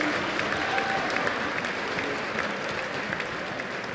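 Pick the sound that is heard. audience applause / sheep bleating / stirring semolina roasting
audience applause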